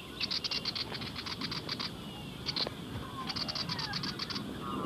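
A willie wagtail attacks a kookaburra, its rapid, repeated chattering scolding calls coming in clustered bursts over a steady noisy outdoor background.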